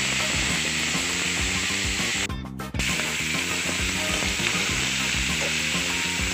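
Boiled chicken feet sizzling in a pan for adobo sa gata: a loud, steady frying hiss throughout, with a short break partway through and faint clinks of stirring underneath.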